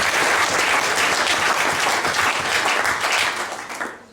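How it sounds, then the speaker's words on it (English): An audience at a Rotary district conference gives a loud, sustained round of applause, a dense wash of many hands clapping close by that tapers off near the end. "Round of applause"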